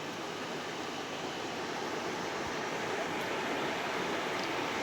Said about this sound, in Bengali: এই যে আমাদের ঘরে জল ঢুকতেছে